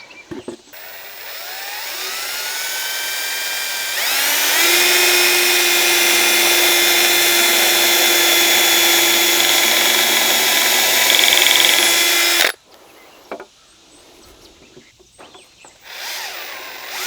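A power drill drives screws into a wooden bluebird house, its motor whining up and holding steady for about eight seconds under load before cutting off, followed by quieter handling and knocking.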